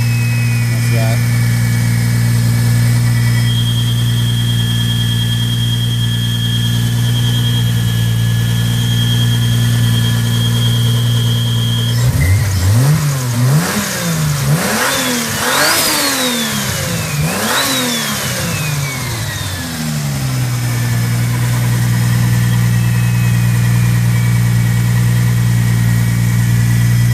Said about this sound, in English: As soon as you rev it up.